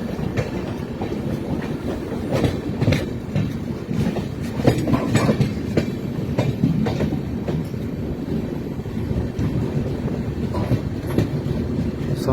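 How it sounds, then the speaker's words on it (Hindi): A train descends a downhill stretch on the cement factory rail line beyond Robertsganj and Churk in Sonbhadra, with steady clickety-clack of wheels over rail joints and occasional squeals, close and continuous for the whole stretch. "अब ट्रेन ने नीचे की तरफ उतरना शुरू कर दिया है।"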